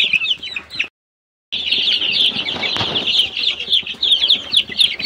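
Young chickens in a round brooder enclosure chirp rapidly and continuously at high pitch, loud and close, with a brief silent gap near the start and a rustle of wings partway through.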